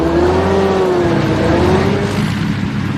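A toy car engine in a kids' construction-vehicle learning game revs with a loud, steady, buzzy whine that rises and dips slightly in pitch throughout, close and continuous with no talking.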